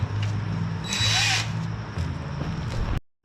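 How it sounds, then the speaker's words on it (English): A power drill boring a hole in a Mercedes OM612/OM647 diesel cylinder head whirs steadily, its pitch shifting slightly as it bites in, with a brief higher whine midway before the motor cuts off abruptly near the end. "Back to time-sert's drill."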